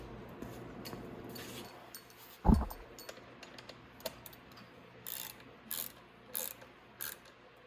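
A hand ratchet tightens a bolt on the headlight of an X21 50cc motorcycle, giving one sharp clack followed by several short, quiet bursts of clicking in a hushed space.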